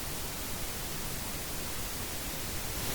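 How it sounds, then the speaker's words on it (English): Dense electronic static fills the whole stretch, a loud, even broadband hiss with no breaks, cutting off abruptly at the very end. "the static continues unabated"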